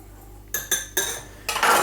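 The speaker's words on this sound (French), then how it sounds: "Ensuite, avec le fouet, donc je mélange pour bien la répartir dans la farine." A whisk works baking powder into flour in a bowl for quick microwave cookies, producing a few distinct metallic clinks and scrapes against the bowl after a brief quiet start.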